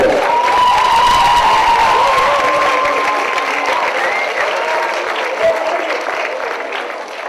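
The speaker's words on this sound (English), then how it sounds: "I'd like everyone to give her a huge round of applause." Audience applause at a school awards event in Dubai, a large crowd clapping loudly and steadily with some cheering, tapering slightly toward the end.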